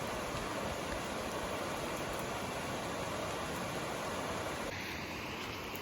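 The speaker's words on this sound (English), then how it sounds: "That's the sound of a rushing creek." A rushing creek on a backpacking trip, a steady dense wash of flowing water, close and unbroken, with no voices.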